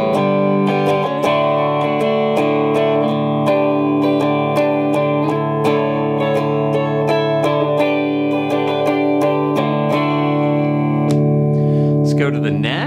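An electric guitar on its bridge pickup, through the clean channel of a Hiwatt Crunch 50 combo amp, plays clean, bright chords and picked notes with a steady rhythm, ringing sustain and no distortion, loud and close.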